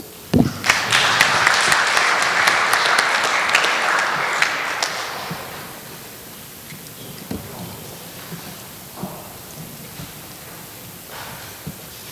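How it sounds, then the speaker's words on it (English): Audience applause for panelists from many countries at a parliamentarians' convention on Tibet in Riga, Latvia: dense, steady clapping for about five seconds, then fading to scattered claps and room noise. "could you please pass on your appreciation through applause?"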